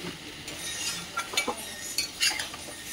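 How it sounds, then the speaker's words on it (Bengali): Boiled potatoes being stirred and sautéed in a pan for dum aloo, brief metal spoon scrapes and clinks over a faint background hiss. "এই যে দম আলুটা এখন ভালো করে একটু আলু দিয়ে কষে নিচ্ছি।"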